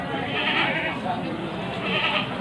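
Jawa Randu goats kept for sacrifice bleat in a farmyard, steady close calls over a constant background hum, with no clear gaps between them.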